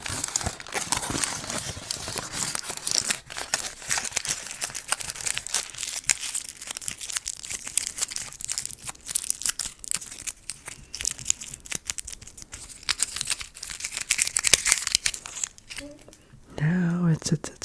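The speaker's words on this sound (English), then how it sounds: "This is like crinkling noises." Material is crinkled and crumpled into a ball with dense, continuous crackling close to the mic. It is interrupted only briefly near the end, and a person speaks quietly over it.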